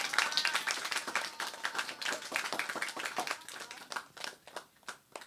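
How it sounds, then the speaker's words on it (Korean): A church congregation claps together in a fast, steady rhythm, moderately near and fairly quiet, the claps thinning toward the end with no talking. "우리 고넬료에게 박수 한번 해줘요"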